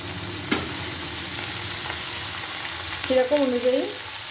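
Capsicum and tomato frying in a pan for a garlic ginger chicken gravy, a steady low sizzle throughout with a brief clink near the start and a short burst of scraping and stirring toward the end.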